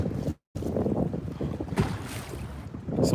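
Wind buffeting a microphone on a fishing boat out on a lake during hurricane conditions, a loud continuous rumbling roar with a brief dropout near the start and gusts swelling toward the end.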